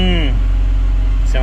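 A JDM Honda Prelude 2.2 VTEC engine, recently repaired for a misfire and a leak, runs with a loud, steady low rumble. Brief voice sounds come at the start and end.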